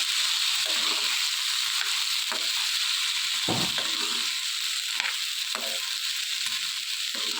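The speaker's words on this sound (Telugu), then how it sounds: "కారం కూడా వేసి ఇవన్నీ బాగా కలుపుకోవాలి" Chickpeas tossed with chili powder in a pan, a steady broad sizzle of frying throughout with intermittent soft scraping and stirring strokes, close and moderately loud, no voices.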